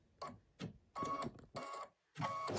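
An embroidery machine stitching designs onto napkins, four at a time, runs in short rhythmic bursts of rapid needle chatter separated by brief pauses, close and fairly quiet with no talk.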